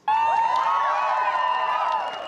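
Protest crowd at BYU cheering for an end to LGBTQ+ discrimination: a sustained, loud mass of cheers, whoops and shouts sounds close and steady for the whole stretch, with no clear single voice standing out.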